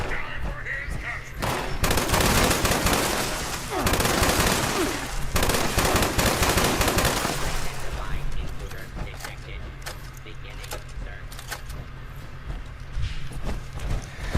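Bursts of gunfire in the video game Fallout 76, loud rapid automatic shots in dense volleys that fade after several seconds into quieter scattered clicks and mechanical sounds.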